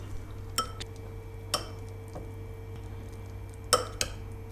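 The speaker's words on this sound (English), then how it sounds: "what I'm going to do is just mix it around" Food being mixed around in a bowl with lutenica added: sparse, sharp clinks of utensil against bowl, four or five distinct taps over steady low room hum, close by and with no speech.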